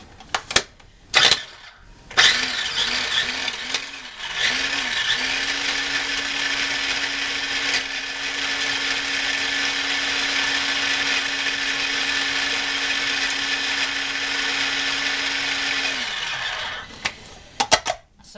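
A food processor chops fresh parsley for homemade crostini. After a few short pulses it runs in one loud, steady whir for about ten seconds, then spins down into some clattering handling sounds.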